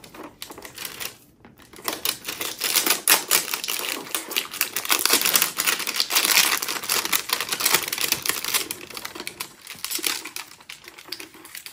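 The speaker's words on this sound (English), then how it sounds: "Let's see if we can get the plastic off." Plastic wrap is crinkled and torn off a toy box, a close, continuous crackling and rustling that runs almost unbroken from start to finish.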